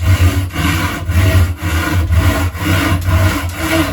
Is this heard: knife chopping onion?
no